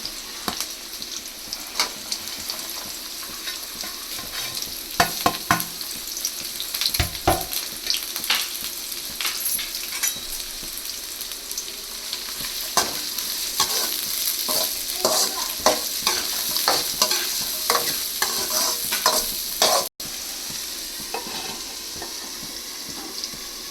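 Aval (flattened rice) frying in a pan while being stirred: a constant close sizzle broken by frequent scraping, rattling stir strokes, loud and busy throughout with no voices.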